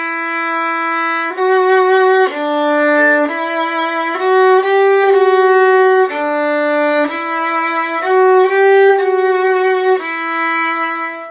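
A violin plays bars 11 to 13 of Ode to Joy, a smooth, sustained melody up close, notes joined in a flowing line with occasional quick steps between pitches.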